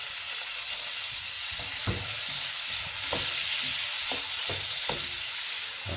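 Cherry tomatoes, slightly larger than usual, sizzling steadily in a pan over medium heat, a continuous close frying hiss with scattered soft pops and a few light clicks of stirring.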